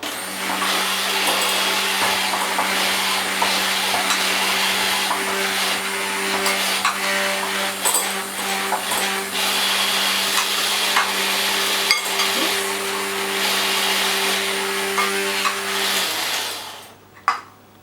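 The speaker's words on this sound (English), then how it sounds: "it's beginning to make my mixer strain a little bit" A stand mixer whisking meringue runs with a steady loud motor whine and rattling whisk, the motor straining, continuing for about sixteen seconds before winding down and stopping with a final clunk.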